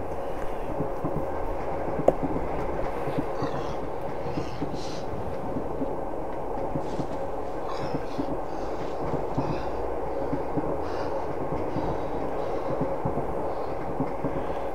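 Steady, continuous rumble of a train carriage rolling on rails in the Russian horror game Train, with a low rhythmic clatter running throughout and one brief sharp click near the start.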